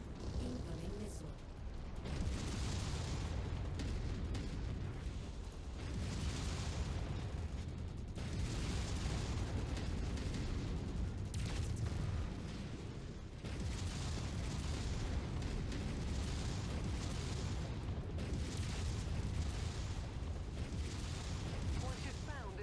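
Missile explosions in the mech combat video game Mechwarrior 5 form a dense, continuous roar of booming blasts and mechanical clatter, with game voice lines talking over the din.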